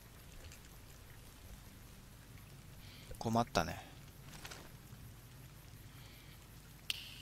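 Rain in the video game Fallout New Vegas, in the modded Honest Hearts content, falls as a steady, soft hiss, broken by a short spoken remark and a couple of dull thumps midway.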